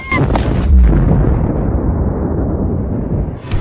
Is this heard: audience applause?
no